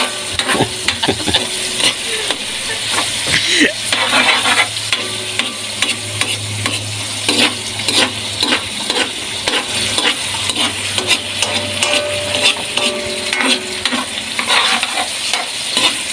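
Sautéed bottle gourd (ginisang upo) is stirred in a hot pan, giving a continuous sizzle with repeated scraping and clattering stir strokes throughout, close and fairly loud, with no talking.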